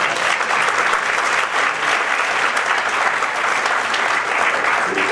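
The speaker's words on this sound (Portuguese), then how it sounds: "Aplauda Jesus." A church congregation at a leaders' conference breaks into loud, dense applause, a continuous roar of many hands clapping at full strength and steady throughout, with little else audible.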